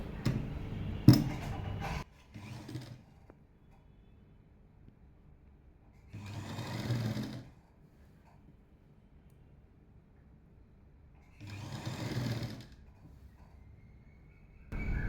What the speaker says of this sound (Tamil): ஒரு அரை இன்ச் அளவுக்கு இப்படியே தைச்சிட்டு வரும்